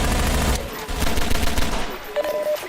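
Enemy gunfire in Half-Life 2, a dense burst of rapid shots that thins into scattered pops and clatter, close and fairly loud, with no talk over it.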